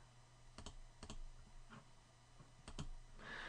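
Mouse clicks while working in Finale notation software: several crisp double clicks spaced a second or so apart, close and fairly quiet, over a low steady hum, with a brief soft chime at the end.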